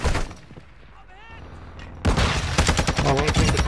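Gunfire in Warzone DMZ: an opening burst, a quieter stretch with a brief voice, then sustained loud automatic fire in rapid, dense volleys.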